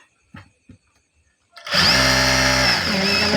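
A sewing machine stitches a salwar, starting after a few faint clicks and a pause and then running as a steady, loud, close mechanical whir with a fast rhythmic rattle to the end of the clip.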